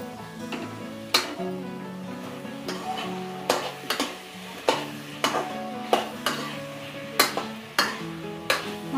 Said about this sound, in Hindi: ये मैं इसके अंदर केला सारा ऐड कर दूंगी